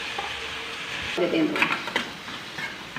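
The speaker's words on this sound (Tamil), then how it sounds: "நல்லா கிண்டி விட்டுக்கிடுவோம்" Liver and suvarotti frying with curry masala powder and salt in a pan, stirred with a utensil that scrapes and clinks against the metal over a steady close sizzle, with a voice talking faintly behind.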